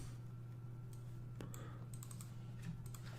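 Quiet keystrokes on a computer keyboard tap out a short search, a handful of light clicks spread over a couple of seconds above a steady low electrical hum and room noise.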